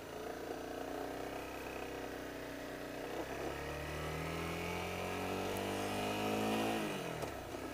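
A Honda CBR250R motorcycle rides off, its engine note faint and steady and rising in pitch as it gathers speed, then shifting near the end.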